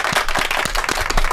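A person claps hands in a radio studio, about a dozen quick, sharp, steady claps in a close and lively burst with no voices.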